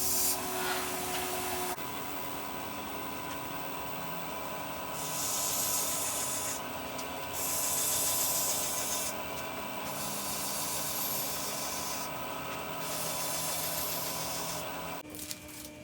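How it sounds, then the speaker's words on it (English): Knife being sharpened on a used 120 grit belt grinder and then a leather strop belt, a continuous abrasive hiss that swells in repeated passes of a few seconds each, close and steady, with no talk. "I took a used 120 grit belt, popped a burr up on it with that, went back with a leather belt"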